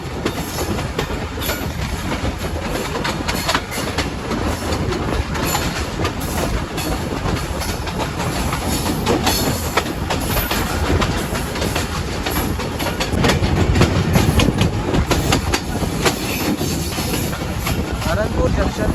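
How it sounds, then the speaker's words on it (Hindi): The 3UP Shuttle passenger train rolls along the rails between Pind Dadan Khan and Lala Musa, a continuous loud rumble of wheels with rhythmic clatter and occasional squeal, people talking faintly on board throughout. "हरनपुर जंक्शन पर अब हमारी ट्रेन रुकेगी"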